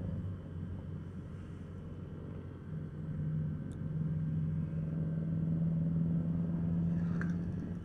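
A car climbing a mountain road between Sarangan and Tawangmangu, its steady engine drone rising as it pulls out to overtake, a continuous low rumble from inside the cabin with no talk.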